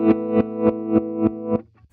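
Guitar chord through a Chase Bliss Gravitas tremolo pedal, pulsing in even, sharply chopped beats roughly three per second, then dying away to near silence.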